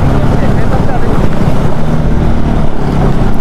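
A vehicle ploughs through a water crossing on the Sarchu to Manali route toward Ladakh, producing a loud, continuous close-up roar of engine, churning water and wind buffeting the microphone.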